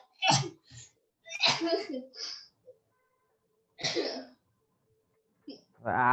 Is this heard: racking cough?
yes